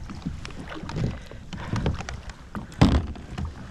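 A kayak paddle splashes and knocks on a lake, with a few soft strokes and a sharper splash near the end, set against light wind noise on the microphone.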